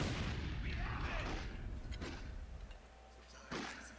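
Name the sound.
mortar fire in Company of Heroes 2 video game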